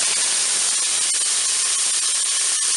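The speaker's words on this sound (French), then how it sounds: "mon huile est chaude, je vais pouvoir mettre mes oignons." Onions hitting hot oil in a Cookeo multicooker, a loud, continuous sizzling hiss that holds steady throughout.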